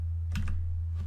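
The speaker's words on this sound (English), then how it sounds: "you can type a URL in" A short burst of computer keyboard typing as a URL is entered, a few quick key clicks over a steady low electrical hum.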